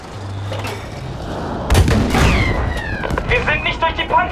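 Tank cannon fire in Battlefield V comes as heavy, booming shots with loud crackling and rumbling decay, under talk between crew members.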